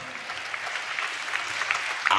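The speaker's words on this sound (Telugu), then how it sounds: "కొడదాం గట్టిగా చప్పట్లో" A church congregation claps together in a brief burst of dense applause during a pastor's sermon, moderately loud and sustained, with a faint voice underneath.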